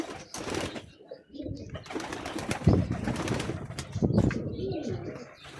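Pigeons coo in low murmurs while wings flap in brief bursts, with soft rustling and faint background voices.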